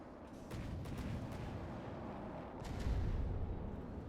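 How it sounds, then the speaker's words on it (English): Heavy gunfire booms in the naval combat video game From the Depths, a continuous rumbling barrage of low blasts with a louder burst of impacts near the end, no voices. "I just got sniped by the guns!"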